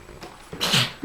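A single short sneeze, sharp and close, rising out of a quiet room on Christmas morning.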